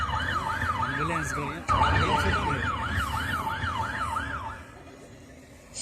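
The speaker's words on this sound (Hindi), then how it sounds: "एम्बुलेंस" Wailing ambulance siren sweeping up and down in steady repeated cycles, fairly close and continuous, with a brief jolt partway through, then fading away at the end, no talk over it.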